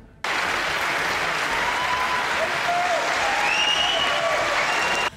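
Opposition members applaud in a parliamentary chamber, a steady dense wash of clapping that fills the whole stretch at even loudness, with faint voices and whistle-like tones rising over it near the end.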